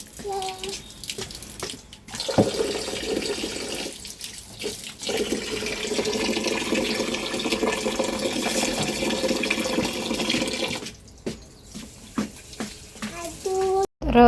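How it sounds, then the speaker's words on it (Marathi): Water splashing continuously from a tap or hose onto plants outdoors, a steady close rush with brief pauses. Voices of an adult and someone talk over it at times. "झाडांना पाणी घालतो."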